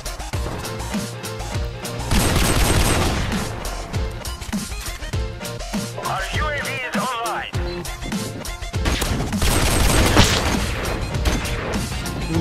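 Rapid bursts of gunfire and impact crashes from the online shooter game Call of Duty, loud and dense across the clip, with a player's voice talking over the action.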